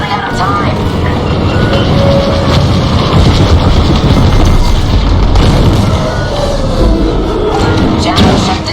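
A starship blows apart during a Star Wars Squadrons space battle, heard as heavy booms and thuds over a dense, continuous roar of combat noise, with radio chatter running alongside.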